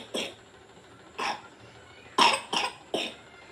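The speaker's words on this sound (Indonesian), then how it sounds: "Itu batuk beneran, Kak." A child coughs for real: five short, separate coughs, close by, the last three coming in quicker succession.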